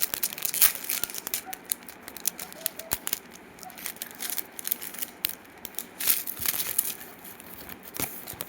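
Packaging for a small jewellery set of a bangle, a ring, earrings and a necklace is opened nearby: plastic crinkles, tears and snips in irregular bursts, with sharp rustles scattered throughout.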